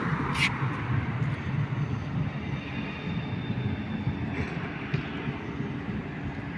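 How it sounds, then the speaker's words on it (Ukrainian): A tram in Kraków rumbles past close by, a steady low rolling roar with faint squeals, under a light wind. "Ось і трамвай."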